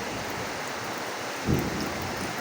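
Rain falling in a steady, even hiss, with a brief louder low rumble partway through, heard close with no voices.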